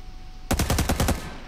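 Rapid burst of machine-gun fire in the Cyber Hunter battle royale video game, about seven sharp shots in quick succession lasting under a second, loud and close, with no talking.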